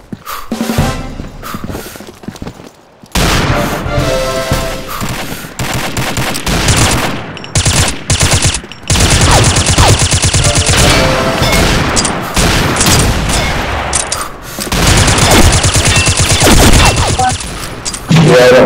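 Dense, continuous automatic gunfire and overlapping shots from a Combat Arms match on an oil rig map, loud and sustained in long bursts with brief gaps, mixed with explosions and game effects.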